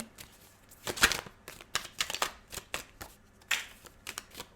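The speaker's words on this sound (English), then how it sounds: "I'm just going to shuffle a little bit." Playing cards being shuffled in several quick riffling bursts, close by, with short pauses between them and no talking.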